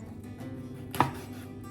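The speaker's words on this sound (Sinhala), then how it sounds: "දැන් කරවල ටිකක් චූටියට කපා ගන්න." A single sharp knife chop lands on dried fish being cut into small pieces, quiet and close, with faint background hum.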